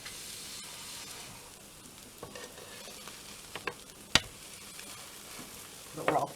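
Arepas cooking in a pan, a soft steady sizzle with a few scrapes and taps of handling, ending in a brief louder clatter.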